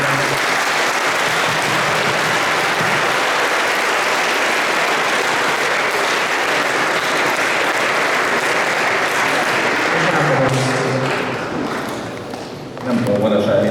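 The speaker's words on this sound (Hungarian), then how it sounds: "Tapsoljuk meg őket" An audience at a school Saint George's Day celebration applauds the musicians in loud, sustained clapping that fades near the end as a voice begins speaking.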